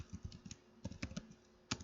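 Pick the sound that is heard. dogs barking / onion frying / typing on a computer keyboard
typing on a computer keyboard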